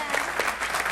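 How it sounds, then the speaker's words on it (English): Brief burst of audience applause on a relationships talk show, a loud dense patter of many hands clapping close by. "we want to give Jim a round of applause right now"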